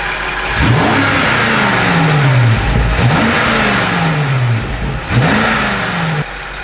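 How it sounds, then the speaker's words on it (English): A BMW F96 X6M fitted with Eventuri intakes revs hard three times, each rise dropping into a falling engine note with a hissing blow-off release, loud and close with no talk. "we're gonna have blow off now with the revs"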